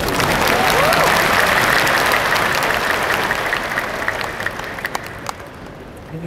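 A large crowd at a university graduation ceremony applauds loudly and continuously, and the clapping gradually thins toward scattered claps at the end.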